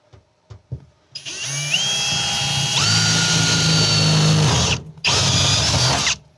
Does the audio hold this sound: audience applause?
no